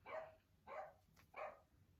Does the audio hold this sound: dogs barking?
yes